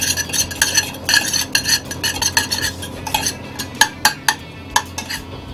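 Raw red tuna is stirred with a splash of Japanese soy sauce in a bowl, producing quick rhythmic clinks and scrapes of a utensil against the dish, close and loud, slowing into a few spaced taps.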